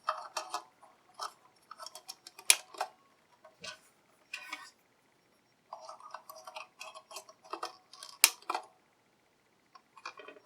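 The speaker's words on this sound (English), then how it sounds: "You just kind of drop them in the slot and press back until you hear a click." Light plastic clicks and snaps as a toy missile is pressed back into its bay slot on a GI Joe Dragonhawk helicopter toy, heard close up as scattered quiet clicks in short clusters with silent gaps.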